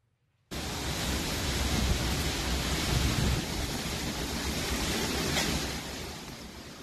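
Hurricane Otis at night on the Mexican Pacific coast as a Category 5 storm, a loud, dense roar of wind and crashing ocean waves that begins suddenly and stays constant, easing slightly near the end.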